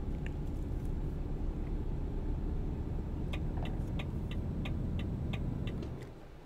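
A powerful truck engine drones steadily in Euro Truck Simulator 2 on a multi-drop trailer run, a constant low rumble joined midway by a row of light, evenly spaced ticks before the sound eases off at the end.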